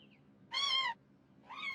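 Two short, high-pitched kitten meows, close and soft, separated by a brief pause over a faint low hum.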